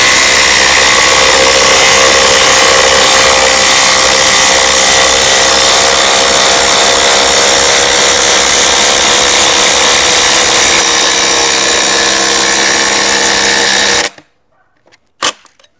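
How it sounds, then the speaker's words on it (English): A Hercules impact driver and a DeWalt DCF850 impact driver, the DeWalt on a fully charged 4 amp hour 21700 cell battery at speed 3, run together in a loud, steady whine and hammer for about fourteen seconds, then stop abruptly, leaving a few brief clicks. "We're gonna put it up against the DeWalt DCF 850, the fully charged power stack."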